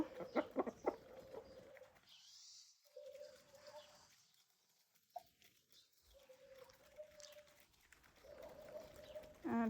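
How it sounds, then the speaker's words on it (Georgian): Chickens cluck and a red rooster and a multicoloured rooster call nearby, with bursts of bird sounds separated by quieter stretches and faint background noise. "ფერადი მამალი, წითელი მამალი აგერ იქით წითელი მამალი."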